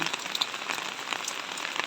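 Typhoon rain falls continuously in a dense, close hiss with scattered patters of drops, no voices heard.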